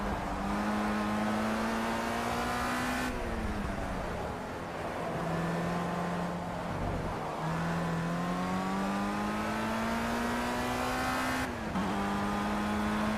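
A racing car engine in the video game Project CARS whines steadily at high revs, climbing through the gears with brief drops at each shift, a continuous close in-car engine tone with no talk.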